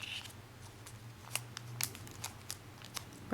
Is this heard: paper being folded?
yes